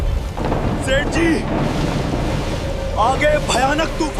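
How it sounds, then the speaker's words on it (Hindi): Thunderstorm at sea around a boat: a steady, loud roar of wind, rain and surf fills the whole stretch, with shrill cries or whistling voices rising over it now and then. "आगे भयानक तूफान है, अब कोई नहीं बचेगा।"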